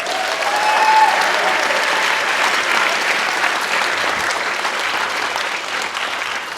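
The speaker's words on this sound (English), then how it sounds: "Can we give them one more round of applause?" A school spring concert audience gives another round of applause after a chamber strings performance, a steady, full clapping from a large room that holds evenly throughout.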